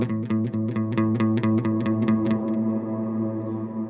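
Electric guitar run through a Strymon Big Sky reverb pedal with the mix knob fully wet: a quick picked arpeggio of bright notes blurs into a lush, sustained wash of reverb that rings on alone.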